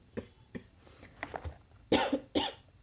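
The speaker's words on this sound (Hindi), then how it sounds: "मेरी खांसी को आप लोग इग्नोर कीजिएगा।" A teacher coughs several times in a row during a maths lesson, short dry bursts close by, with a couple of stronger harsher coughs near the end.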